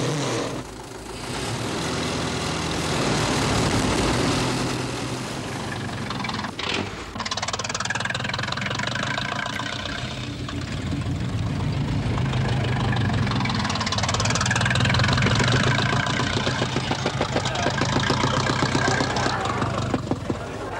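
An early Renault race car engine runs at the start of a motor race, a rough, low mechanical rumble under crowd and background noise, with a brief sharp burst midway and a narrator talking at times.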